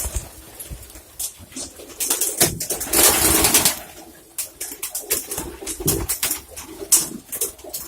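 Pigeons cooing inside a pigeon loft, several birds with overlapping throaty coos and calls, fairly close and loud, with a brief flurry of wing flapping in the middle.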